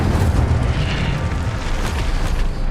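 A fire spell cast in a wizard video game bursts into a loud, sustained, roaring explosion, deep rumbling with a crackling fiery wash that stays dense throughout.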